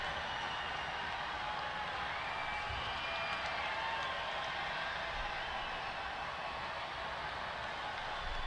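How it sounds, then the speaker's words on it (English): A crowd cheers for a man holding up a Bernie sign, a dense, steady wash of distant applause and cheering that holds at an even level throughout, with no clear voices standing out. "the reason they're all cheering is because he's holding up that Bernie sign"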